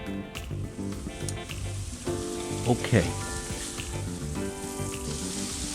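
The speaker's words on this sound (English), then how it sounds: "It's going to start making that happy noise. That sizzle is coming." Corned beef sizzles steadily in a frying pan, a constant crackling hiss with a brief clatter of stirring and a short word spoken midway.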